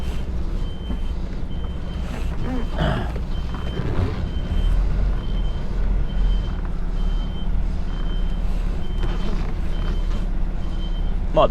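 UK HGV truck reversing, its reversing alarm beeping in a regular repeating pattern over a low steady diesel engine rumble, with an occasional air brake hiss.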